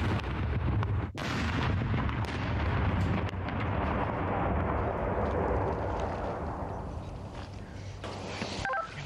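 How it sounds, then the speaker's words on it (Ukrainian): Controlled electric detonation of explosive ordnance by deminers in Ukraine, heard as a loud, sustained broadband rumble and roar that fills the whole clip, with a brief dip near the start and a faint tail at the end. "Знищення вибухонебезпечного предмету буде проводитися контрольованим підривом"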